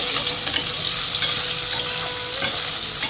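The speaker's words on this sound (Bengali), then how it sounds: "কচুটাকে দিয়ে ভালো করে একটু কচুটাকে কষিয়ে নেব" Pieces of taro stir-fried in a pan with fried onions, giving a loud continuous sizzle with a busy frying crackle and occasional scraping from stirring.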